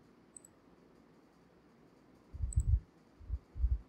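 Computer mouse clicks during a Node.js installation on Windows 10, a few soft low thumps in a quiet room, a cluster of clicks followed by two more after short pauses.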